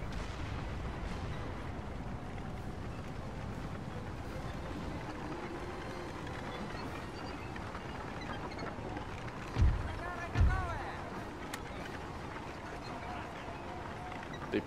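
Two dull, heavy booms go off close together over a quiet, noisy game backdrop, cannon fire in Napoleon: Total War.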